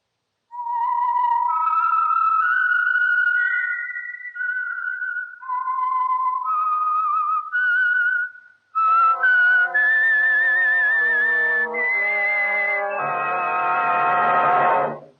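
A person whistles the signature tune of the radio program The Whistler, a slow, eerie melody alone, with long sustained notes sliding up and down, ending in a higher, shriller flourish.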